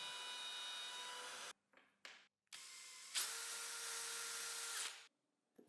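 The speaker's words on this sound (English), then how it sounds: "I will use the hand router to make a recess that will allow me to install the hangers." Hand router cutting a recess into wood to fit picture hangers, a loud steady whine that stops and restarts in short bursts, then one long sustained cut before falling silent, with no talking.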